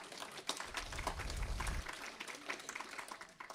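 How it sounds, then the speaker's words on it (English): Applause from an audience at an Alberta independence political event, greeting first-time attendees: a short burst of scattered clapping, fairly faint and somewhat distant, with no talk over it. "let's give them a round of applause"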